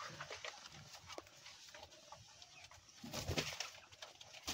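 Pigeons, including Sirazi pigeons, call with soft cooing at the low end among faint bird chatter and broadband background noise. The calls grow louder and busier partway through.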